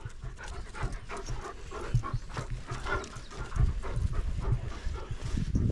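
A sheepdog working lambs on a farm pants rapidly and steadily close by, a continuous breathy rhythm over low rumbling background noise with no talking.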